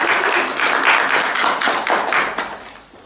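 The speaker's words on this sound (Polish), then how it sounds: "Przywitają oklaskami." An audience at a song contest in Opole claps to welcome a singer in a close, fairly loud burst of applause with distinct hand claps, tapering off after about three seconds.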